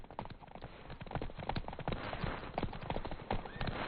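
Roach the horse galloping in The Witcher 3, rapid close hoofbeats in a continuous driving rhythm with a brief whinny, loud and alone.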